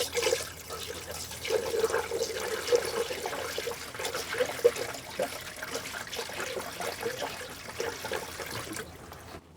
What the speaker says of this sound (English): We're just putting water in, so that's going to make a bit of a mess if we spill some